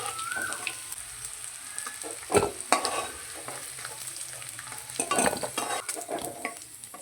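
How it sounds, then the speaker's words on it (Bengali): Potatoes being lifted out of hot oil with a utensil, soft sizzling under scattered scraping and clinking of a spatula against the pan, fairly quiet and close. "আলুগুলো ভেজে নিয়েছি আলুগুলো এবার তুলে নেব"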